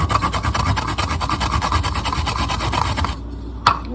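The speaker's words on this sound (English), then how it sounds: "you just go like this to grate. Is this a grater? Grate the radish." Radish rubbed on a Japanese grater, a fast rhythmic series of close, scratchy rasping strokes for about three seconds, then silence broken by one brief knock.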